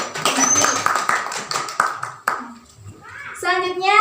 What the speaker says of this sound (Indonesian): Beri tepuk tangan kepada kelompok 1.